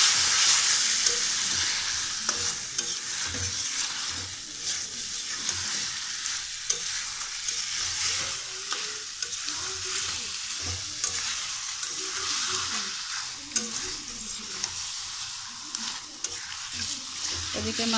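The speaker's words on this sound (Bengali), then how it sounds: "এদিকে মাছটা কষানো হোক" Fish frying and being stirred in a ground spice paste with chilli for muri ghonto: a steady, loud sizzle runs throughout, with frequent scraping stir strokes and small clicks close by and no talking.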